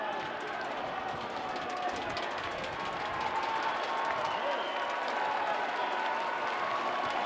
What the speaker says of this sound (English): this rowdy partisan crowd at Al Lang Stadium roars with approval